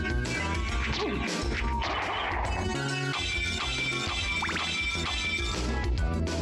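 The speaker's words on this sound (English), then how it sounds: "I just like the sound of the glass shattering." Glass shatters with sharp smashing crashes in Castlevania: Symphony of the Night, loud and dense over continuous game music and effects, with a few quick falling whooshes mixed in.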